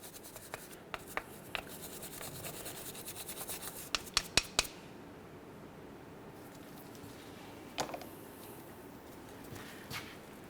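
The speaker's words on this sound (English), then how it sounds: "I like to use a nice brass brush, and I'm just going to go ahead and clean this down" A brass wire brush scrubs rust from a brake caliper on a 2005-2010 Chevrolet Cobalt during a front brake job, giving a soft continuous rasping with a few sharper scraping strokes near the middle.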